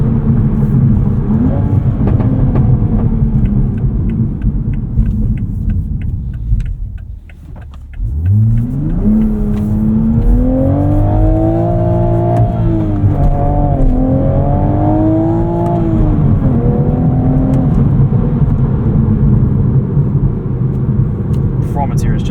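A 2024 Toyota GR Supra manual engine revs down, then climbs steadily in pitch through repeated hard accelerations, loud and close, with rising harmonic whine.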